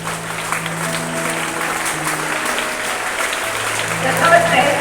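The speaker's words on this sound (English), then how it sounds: "Let us give them a big" A school assembly audience claps for prize winners with moderate, continuous applause that swells slightly near the end, while steady tones and faint voices sit underneath.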